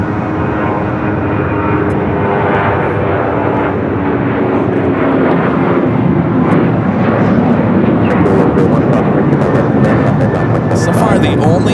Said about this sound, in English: Next takeoff, United Airlines 279 taking off to Tampa, Florida on the